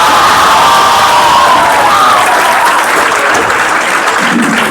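A classroom crowd at a coaching-batch module launch bursts into loud, close applause mixed with cheers and whoops, sustained throughout and easing slightly toward the end.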